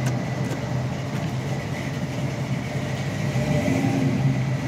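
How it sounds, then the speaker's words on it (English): A 1972 Plymouth Cuda sits idling nearby, giving a steady low rumble with an even, continuous drone and no voices over it. "I'll take the cold just to hear that engine."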